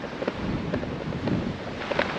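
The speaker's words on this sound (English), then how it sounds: "It is windy this time" Wind blusters steadily across an open waterfront area, a constant rushing roar with small gusty swells and no voices.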